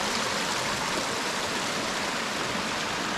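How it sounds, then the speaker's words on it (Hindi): The Saraswati river, a tributary of the Alaknanda, rushes past Mana village in the Himalayas of Uttarakhand, a loud, constant roar of turbulent whitewater filling the scene with no voices. "अलकनंदा की एक ट्रिब्यूटरी सरस्वती भी यहाँ बहती है।"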